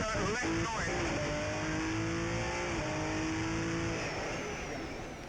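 A Subaru rally car with a front differential problem accelerates on a Jersey Rally stage. The engine revs and shifts loudly and up close, its pitch sweeping through the gears, while a voice may sit faintly underneath.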